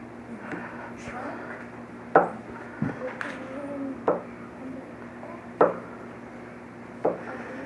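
Knife cutting homemade soft pretzel dough into one-inch pieces on a board, five evenly spaced sharp chops against a quiet background, with a voice talking faintly between cuts.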